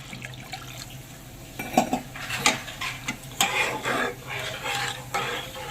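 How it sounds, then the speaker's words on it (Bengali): Water is poured into a spice paste in a pan for rohu fish korma, with close splashing and sloshing bursts mixed with light clinks of a utensil against the vessel. "এবার আমি এই মশলাটাতে পরিমাণ মতন জল দিয়ে দেব"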